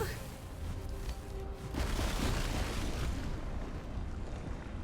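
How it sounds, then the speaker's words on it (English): Sustained explosion sequence in the video game Hollow Knight: Silksong, a dense roaring rumble of blasts and debris that swells and stays loud for several seconds without pause. "Are you doing this kind of explosion sequence?"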